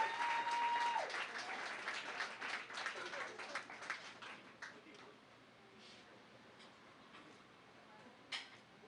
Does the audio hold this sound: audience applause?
yes